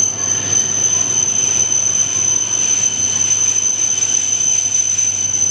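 A 12-carriage Shinkansen bullet train moves through Tokyo station, giving a loud, steady rolling rumble with a sustained high-pitched wheel squeal throughout, close by and with no voices.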